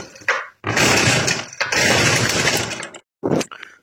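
A McCulloch B26PS brushcutter with a stuck clutch is cranked by its pull-starter, giving loud rough bursts of engine turnover, two long pulls and a short one, with brief gaps between them.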